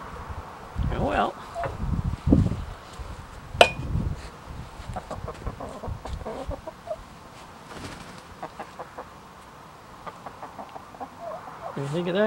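Chickens cluck in scattered bursts at close range, with a person speaking intermittently over the flock and some rustling in the background.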